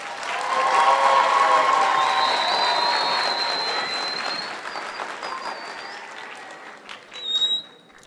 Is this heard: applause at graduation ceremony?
yes